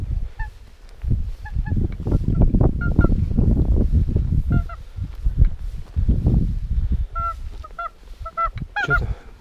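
Repeated honking swan calls ring out over a steady low rumble of wind or movement during an October duck hunt, growing busier and denser toward the end.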